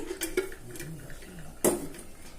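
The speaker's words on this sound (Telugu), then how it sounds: "స్టవ్ వెలిగించి మూకుడు పెట్టుకుంటున్నాను" A pan is set on a lit stove: metal cookware clanks and scrapes a few times, with one sharper clatter as the pan is set down, close and fairly quiet.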